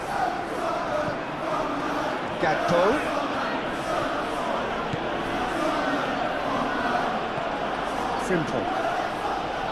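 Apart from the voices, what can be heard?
stadium crowd reacting in the video game PES 21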